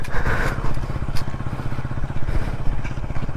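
A motorbike being ridden, its mid-pitched engine running steadily and loud and close with a rapid pulsing beat, mixed with rattling, scraping clatter along the way.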